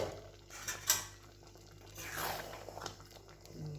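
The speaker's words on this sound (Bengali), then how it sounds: "এবার ঢাকাটা খুলে দেখব।" A lid lifted off a pot of chili chicken on the stove, with a few sharp metallic clinks and scrapes over a soft background sizzle.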